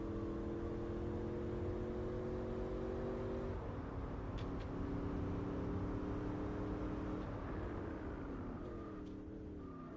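A race car engine in Gran Turismo 4 drones loudly and steadily, its pitch climbing through gears and dropping at each shift over about ten seconds, with no talking.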